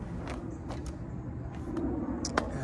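The door of a 1973 Travco 270 motorhome, pre-renovation, creaks open with a few squeaky scrapes and small clicks of the latch and screen, faint and close with no talk.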